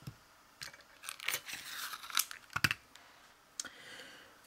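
Scissors snip through strands of crochet yarn in a quiet room, several faint, brief crisp cuts and rustles in an irregular sequence.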